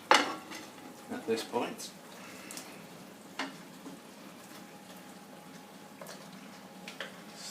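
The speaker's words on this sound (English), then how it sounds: "I'm going to add the meat back in" Beef stirred back into a thickened red wine, onion and carrot reduction in a pot, with spoon scrapes and clinks against the pan, soft bubbling underneath and a brief spoken remark.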